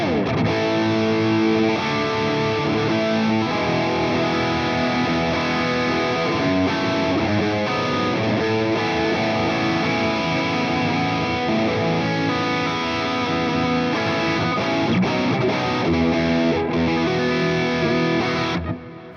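An Ibanez electric guitar on its bridge pickup plays through a Boss IR-2 amp and cabinet pedal with reverb, giving a loud, fat, distorted tone in continuous chords and riffs for about nineteen seconds with no voice.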